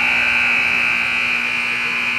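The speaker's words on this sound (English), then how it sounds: "Oh, the buzzer's stuck again." A stuck scoreboard buzzer at a youth 12U hockey game blares as one loud, continuous, unbroken electronic tone for the whole stretch, with no talk over it.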